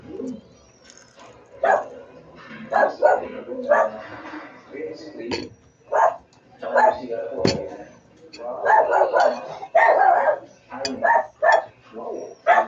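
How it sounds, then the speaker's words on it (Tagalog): Several sharp dog barks and yips pop out intermittently among people chatting nearby, with faint bird calls in the background. "Aso na."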